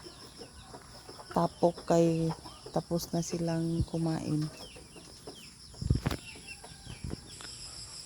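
Farmyard chickens give a series of close, clucking calls in short bursts, with a few sharper cries and a brief flap, while a person talks nearby.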